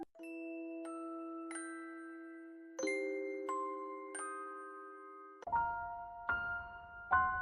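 An apartment doorbell chimes in a slow sequence of clear, ringing tones, each note sustained and overlapping the next, close and fairly quiet in an otherwise silent room.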